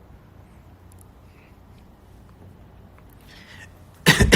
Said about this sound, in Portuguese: Essa tosse aí não é corona